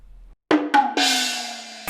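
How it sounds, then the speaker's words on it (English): Percussion hits followed by a sustained, bright open hi-hat ring out in an Asian-flavoured beat, loud and clean, with the cymbal wash decaying before a final hit. "open hi-hat and a bit of percussion at the end"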